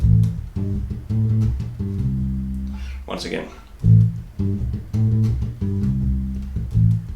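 Minor pentatonic bass guitar groove restarting after a slip: loud, close plucked low notes in a repeating rhythmic pattern, with a brief spoken interjection around the middle before the line resumes.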